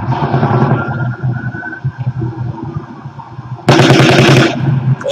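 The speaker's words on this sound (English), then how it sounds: "It sounds like automatic gunfire." Rapid bursts of automatic gunfire, distant but sharp, with a louder, denser volley near the end.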